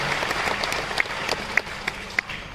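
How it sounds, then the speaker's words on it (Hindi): A short burst of steady applause from a gathering at a Vihangam Yoga saints' centenary event in Raipur, with a few sharper claps standing out near the front. "संपूर्ण छत्तीसगढ़ विहंगम योग संत समाज के लिए तालियों की गड़गड़ाहट कर रहे हैं"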